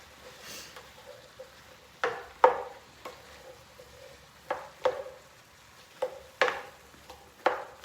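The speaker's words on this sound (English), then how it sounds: "So let me stir everything up." Spoon scraping and clinking against a pan while food is stirred at home, a series of short irregular knocks over a faint background hiss.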